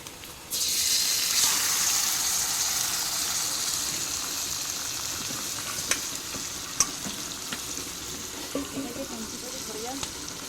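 Marinated chicken hits a hot pan over a wood-fired clay stove, bursting into a loud, steady sizzle that holds throughout with a few small clinks and pops.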